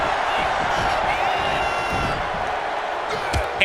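A wrestling arena crowd roars and cheers steadily throughout, loud and dense, with a commentator talking over the noise.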